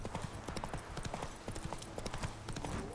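Roach the horse gallops in The Witcher 3 with rapid, rhythmic hoofbeats that drum steadily and close, a game-world clatter without pause.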